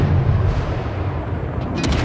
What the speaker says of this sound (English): As we start continuous firing on the next ship.